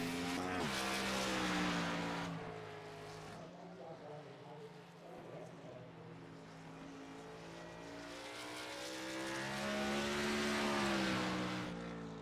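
Race car on a qualifying lap at North Wilkesboro in a Southern Excitement Racing League event, its engine note rising and falling as it passes, loud and sustained, with a commentator talking over it.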